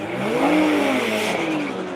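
Cars launching down a drag strip during an afternoon One Lap of America drag racing session at Quaker City, a steady loud engine roar with rising and falling pitch sweeps across two seconds, heard from a distance.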